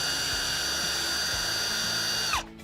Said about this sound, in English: you can take a 3/16 drill bit, clean that out just a little bit.